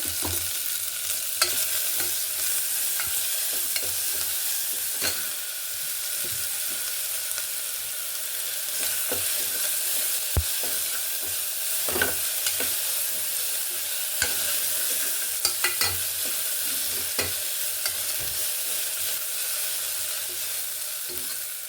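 Vegetables for veg pulao frying with ginger, garlic and green chili paste, a continuous bright sizzle broken by frequent spoon scrapes and clicks against the pan, close, no talk.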